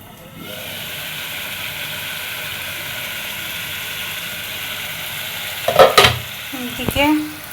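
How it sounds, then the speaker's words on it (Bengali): A spice paste fries in a pan with a steady, even sizzling hiss. A few louder clattering stirs come near the end. "এদিকে মশলাটা কষায় নিচ্ছি, আরো কষাবো।"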